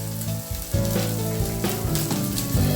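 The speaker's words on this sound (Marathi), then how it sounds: "ही पण तेलामध्ये परतून घ्यायचे" Red byadgi chili powder and garam masala sauté in hot oil for village-style dry chicken, making a loud, continuous sizzle with scraping stirring sounds close by.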